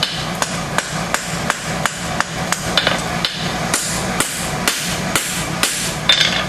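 A hammer beats a leather bevel tool with quick, even, sharp taps, about two per second, close and loud with no talking.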